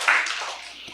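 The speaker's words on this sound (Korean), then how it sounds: "박수 해주세요" Brief burst of applause from a Sunday-school style church gathering of children in Seoul, a dense patter of claps that swells at once and then fades over about a second.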